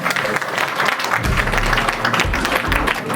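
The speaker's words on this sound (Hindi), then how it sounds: "जोरदार ताली गड़गड़ाहट होनी चाहिए भाई।" A dense, loud crowd of applause greets an arrival at a teachers' award ceremony at Haridwar University, sustained and continuous clapping close up for the whole stretch, with a low rumble beneath.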